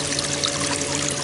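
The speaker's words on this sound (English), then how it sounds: "this is my filter that filters the water and, of course, sprays back into the tank." Continuous splashing and trickling of water sprayed back into a fishing bait tank by a filter pump, with a low steady pump hum underneath, close and fairly loud.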